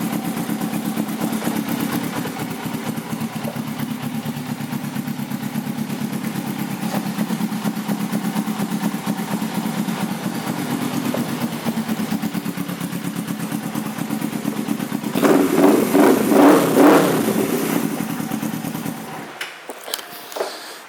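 A 2006 Suzuki GS500F motorcycle engine idles with a steady, close throbbing rumble, then revs up in a few sharp bursts near the end before dropping away; no talking.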